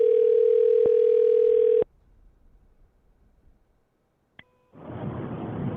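A single steady ring tone on an outgoing telephone call, loud and clear for about two seconds, then a stretch of near silence, a brief click, and a burst of broadband noise.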